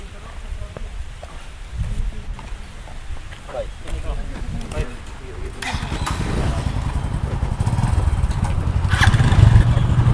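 A motorcycle engine rumbles and revs nearby, growing louder toward the end, with people talking over it outdoors.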